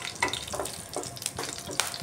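Cumin seeds, dried red chili and bay leaf fry in hot oil, giving short bursts of spattering sizzle at an irregular rhythm, close and fairly loud.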